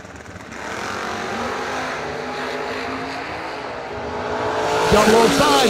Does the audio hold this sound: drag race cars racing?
yes